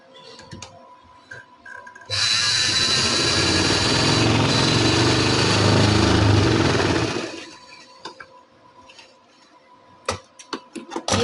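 A sewing machine stitches frock sleeves together in one loud, steady mechanical run of about five seconds, set between quieter stretches of light clicks and handling.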